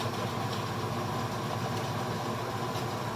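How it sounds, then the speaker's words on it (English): Worn bearings on the countershaft of an Atlas 10-D lathe run in a steady, rough droning hum that stays constant and fairly loud throughout, with no talking. "I don't like the sound of those shitty bearings up there."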